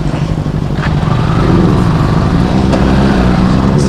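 A Benelli 600i superbike fitted with an SC Project exhaust revs loud and close, a rough, throbbing engine note holding steady and building slightly over a few seconds.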